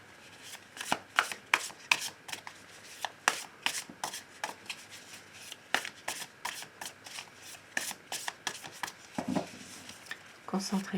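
Tarot cards are shuffled over and over, a close, fast run of crisp riffling snaps and slaps in an uneven rhythm, with someone speaking softly between the shuffles.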